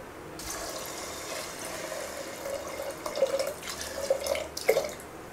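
Water being poured into a pot of pearl millet and dal, heard as a thin trickling, dripping stream that grows louder and splashier toward the end, close by with no talk.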